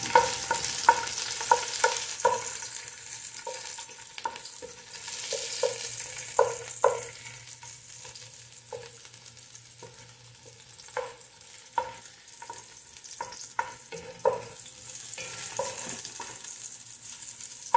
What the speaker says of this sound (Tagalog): Isunod naman natin ang bawang, garlic,